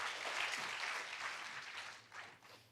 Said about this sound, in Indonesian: Kasih tepuk tangan yuk sekali lagi buat Tuhan.